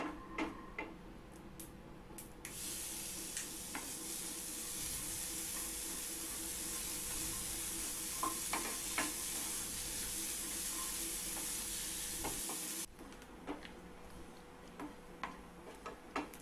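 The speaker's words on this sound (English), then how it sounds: "Heat a pan and dry roast quarter cup of peanuts. When it turns light brown, add quarter cup of grated coconut." Peanuts dry roasting in a heated pan, later joined by grated coconut, give off a steady soft sizzling hiss with occasional light ticks and scrapes from stirring, then quieten near the end.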